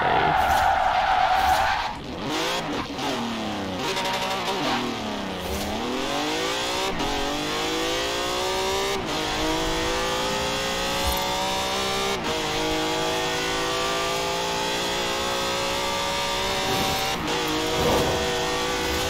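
A Lamborghini Diablo GTR in Forza Horizon 4 howls through repeated high revs and gear shifts with tire skidding and squeal, the engine pitch sweeping up and down loudly and continuously.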